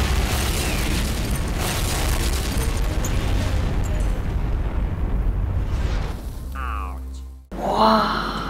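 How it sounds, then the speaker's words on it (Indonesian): Shot Baker, an underwater nuclear test at Bikini Atoll, is heard as a loud, sustained roaring rumble that fades out, then a sharp cut into a short burst of other sound. "the following underwater blast known as Shot Baker"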